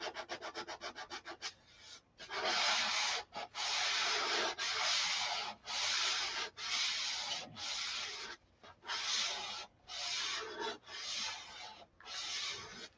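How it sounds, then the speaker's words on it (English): Detail sanding with 400 grit sandpaper to remove stripe marks on the ribs, a run of close, loud rasping strokes in a steady rhythm, each several seconds long with short pauses between, alone with no voices. "This is 400 grit sandpaper. We're sanding out the stripe marks that I put on"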